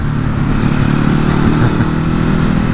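A Ducati Hypermotard 950 SP motorcycle is being ridden, its engine giving a loud, steady droning rumble mixed with wind noise that runs without pause. No voices are heard.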